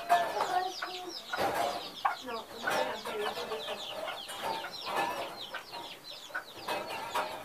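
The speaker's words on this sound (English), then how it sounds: "Some older chicken chicks." Older chicken chicks on a farm cluck and peep in a steady, busy chatter of overlapping soft calls, close by and fairly quiet, with no voices over them.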